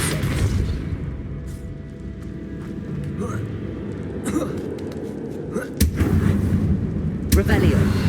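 A spell cast in a wizard video game lets out a deep booming blast with low rumbling, followed by crackling magical effects and further thuds amid game sounds.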